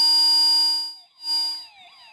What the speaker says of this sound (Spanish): si yo me paso por delante del sensor, hemos visto, salta la alarma